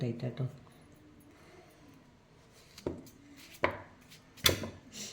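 A few sharp knife chops against a board as pumpkin is cut into small pieces, spaced irregularly, with faint talk underneath.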